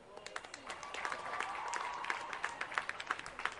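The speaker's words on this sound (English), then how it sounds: "A big round of applause for Janani, please." An audience at a school centenary celebration applauds after a song, with a steady bed of clapping that swells in the middle and carries a faint voice or tone underneath.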